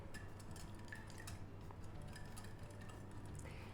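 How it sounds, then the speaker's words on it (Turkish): Cake batter for a savory breakfast cake being stirred in a bowl, with a steady run of soft scraping and clinking from the utensil against the bowl under a constant low hum, no talking. "Bütün malzemeleri güzelce birbirine iyice Karışana kadar karıştırıyorum."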